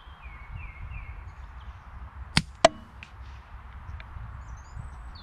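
Two sharp, sudden cracks in quick succession as a projectile strikes wood about 100 meters away, over a low outdoor rumble.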